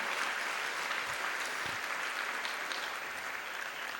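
Applause from an audience at a university induction program in an auditorium in Indore, a dense steady clapping that fills the whole stretch at moderate distance with no talk.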